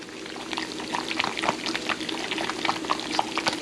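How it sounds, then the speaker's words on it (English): Thick, wet squelching and scraping, close and moderately loud, as cream of mushroom soup is stirred into a tuna casserole mixture in a pot, with no talking. "Alright, then you're gonna want to stir all that together."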